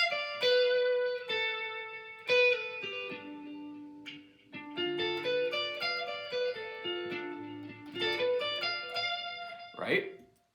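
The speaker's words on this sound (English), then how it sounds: "And then D Dorian pentatonic is going to sound like this." A D Dorian pentatonic scale is played on guitar, a quick run of clean single notes at a steady pace, close and clear, ending with a brief voice.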